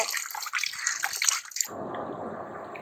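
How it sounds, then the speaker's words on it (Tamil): Cut village country chicken pieces are washed in water, with splashing and dripping for the first second and a half, then a softer continuous trickle and rinse, close by and without voices. "சிக்கன்லாம் கட் பண்ணியாச்சு கழுவிட்டு இருக்காங்க"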